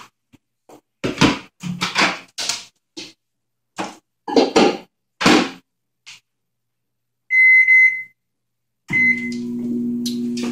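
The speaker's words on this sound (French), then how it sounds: "On va le mettre du moins au micro-ondes pendant 5 minutes." Microwave oven heating food for five minutes, its door clunking and a few short electronic beeps sounding before a steady low hum of the running oven takes over, close and fairly loud.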